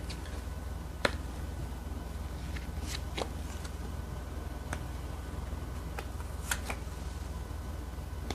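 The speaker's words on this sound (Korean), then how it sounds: "2번 분들의 9월 일과 금전에 관한 카드 뽑겠습니다" Tarot cards being shuffled and drawn: scattered crisp card snaps and flicks, spaced irregularly over a steady background hiss.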